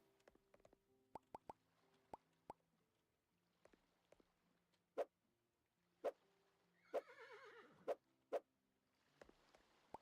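A horse in the video game Old Market Simulator gives one short whinny amid sharp, evenly spaced hollow plops and clicks, the game sounds clean and close with no talking.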